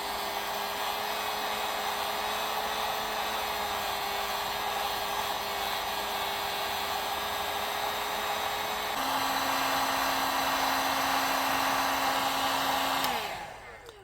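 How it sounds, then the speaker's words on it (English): A heat gun blows hot air over embossing stencil paste, a steady close whirring rush that steps to a higher pitch partway through, then shuts off and winds down at the end. "I'm going to grab my heat gun, and I'm going to start"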